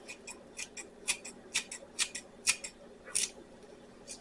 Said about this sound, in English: Just take some clean scissors, chop up the chives into it